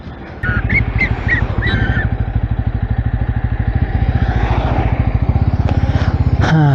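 A 2024 Bajaj Pulsar N250 motorcycle engine revs hard while riding, a loud, steady pulsing exhaust note climbing in pitch close to the microphone, with a few brief higher tones near the start.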